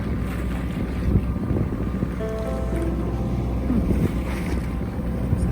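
A sailboat under engine power on the open sea off the Spanish coast in fog, a steady low motor drone with wind buffeting the microphone and water washing past the hull, continuous and fairly loud throughout.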